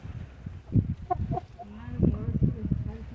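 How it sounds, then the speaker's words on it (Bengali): A hefty native village rooster of about five kilograms clucks in short, repeated bursts close by, over a low murmur of background voices and movement. "একদম গ্রাম বাংলার দেশি খাঁটি মুরগি। মোরগ।"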